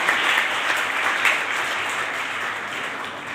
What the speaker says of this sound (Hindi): तो एक बार बहुत जोरदार तालियां हमारे हरिओम जी कौशिक